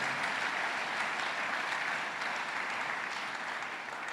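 A church congregation breaks into steady, sustained applause, a dense wash of clapping at moderate distance that continues evenly without pause.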